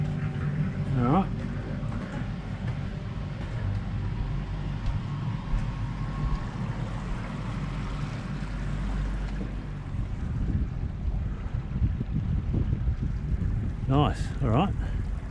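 A boat cruises on Epropulsion Navy6 electric motors with a steady low hum under wind buffeting and water wash, while people talk briefly at the start and end.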